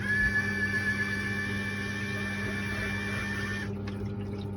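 A Red Sea Reef Mat roller motor winding gives a steady hum with a faint whine beneath trickling water, then the higher whine cuts out near the end.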